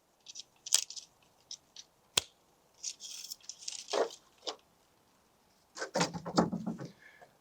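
Pruning secateurs cutting through a tree hydrangea branch in a garden: a couple of sharp, close snips with light rustling of leaves and stems between them, then a longer burst of handling noise near the end.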